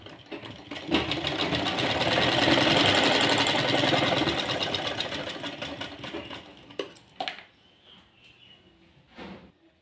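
A sewing machine stitches a Farshi salwar in one long continuous whirring run that rises, holds and fades, followed by a few short bursts and clicks, close and loud with no talking.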